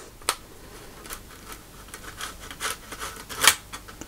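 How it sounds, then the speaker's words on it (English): Close, quiet scratching and squeaking of screws being turned out of a computer monitor, with irregular small clicks and a sharper tick near the end, and no talking. "I'll take all the screws out"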